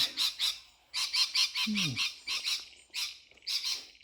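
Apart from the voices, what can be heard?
loud birds squawking and chirping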